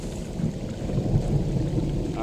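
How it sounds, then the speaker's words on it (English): Low, rolling thunder rumbles steadily beneath the sound of rain in a forest wilderness storm in the video game Firewatch, a dense continuous roar with no distinct cracks. "I heard some thunder."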